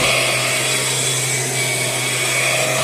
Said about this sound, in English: Let's cut the light out and vacuum into here.